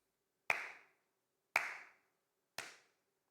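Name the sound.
hand clapping, counted claps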